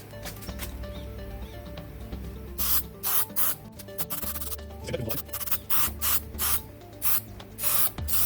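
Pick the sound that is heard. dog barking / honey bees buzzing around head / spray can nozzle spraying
spray can nozzle spraying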